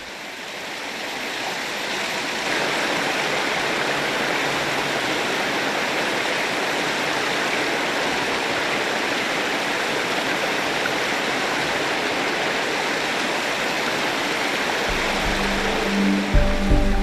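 A Tasmanian mountain stream rushing steadily nearby, a constant loud broadband wash of flowing water throughout, with a few faint bumps near the end.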